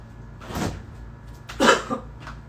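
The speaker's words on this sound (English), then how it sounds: "I hate dry coughs." A person gives two short, dry coughs indoors, one after the other with a brief gap between them. Both bursts are close and clear over a quiet room.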